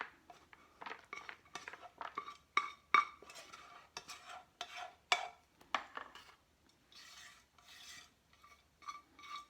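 Dry pasta and rice being tipped into a pot in a home kitchen, giving faint, scattered rattling and scraping bursts in irregular clusters, close and quiet, with no talk.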